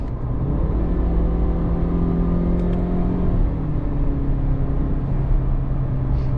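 A 2024 Mazda CX-30 Turbo with a 6-speed manual gearbox cruises in third gear, its engine a steady droning hum from inside the cabin with tones that rise and settle slightly, no talk.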